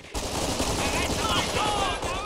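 Machine gun fire in the Company of Heroes Blitzkrieg mod rattles in a dense, sustained burst of rapid shots, loud and close, continuing almost unbroken from start to finish.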